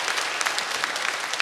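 Churchgoers at a summer retreat gathering break into brief, full applause, a dense even patter of many hands clapping throughout.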